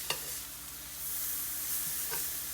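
Pepper and eggplant cook in olive oil in a pan with a steady, soft sizzle, joined by a few light clinks and stirring scrapes near the start and end.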